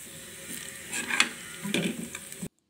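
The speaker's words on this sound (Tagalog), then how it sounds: "ito magigisa ako ng bagoong" Shrimp paste (bagoong) being sautéed in a pan, giving a soft sizzle with scraping stirs and a couple of sharper clinks, moderately quiet and close, stopping abruptly.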